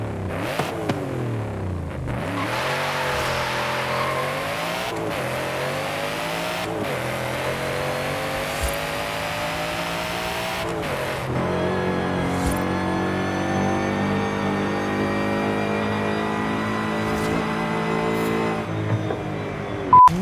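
A custom 1900-horsepower Ford Mustang GTD in Forza Horizon 5 revs and accelerates hard through repeated gear shifts, its engine note climbing and dropping in a steady loud drone with occasional tire squeal and no talking.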